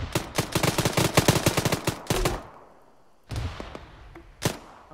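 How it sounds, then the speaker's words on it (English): Rapid bursts of gunfire from friendly troops in a military video game, a dense rattling volley for about two seconds, then quiet and a few scattered single shots. "Friendlies are firing behind us."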